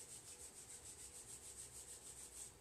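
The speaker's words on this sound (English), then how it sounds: "rub the hands together, create a little bit of heat and friction with the hands" Palms rubbing briskly together to build heat during a self-care yoga flow, a soft, close, steady swishing of quick regular strokes for nearly three seconds, with no talking.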